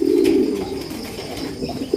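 Soft cooing of Bokhara pigeons, almond-coloured birds in a pigeon loft, a low steady throaty coo running through, with a short fresh coo near the end.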